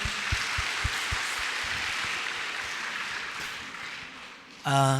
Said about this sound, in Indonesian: Tepuk tangan dulu dong buat calon rektornya